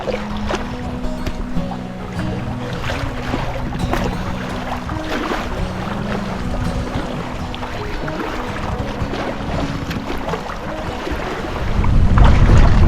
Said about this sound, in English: This north wind is blowing right across the island